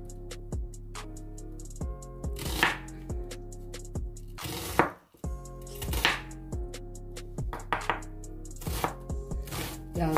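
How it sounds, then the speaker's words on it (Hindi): Onions being chopped with a knife on a cutting board in a home kitchen, a steady series of crisp close knife strikes in uneven bursts with one louder clatter midway, and no talking. "प्याजों को मैंने काट लिया है तकरीबन"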